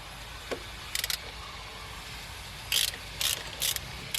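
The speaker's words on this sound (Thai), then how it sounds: "ใช้ประแจเบอร์ 8 ถอดน็อต3ตัวที่อยู่ตรงนี้ออก" A size 8 wrench loosens three nuts on a water pump while the impeller is being changed: short metallic ratcheting clicks in brief bursts over a steady background hum.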